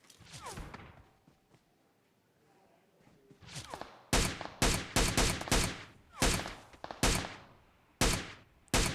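Gunfire in a PUBG solo-versus-duo match: scattered distant shots at first, then a rapid run of loud, close bursts and single cracks in quick succession, with faint movement sounds between.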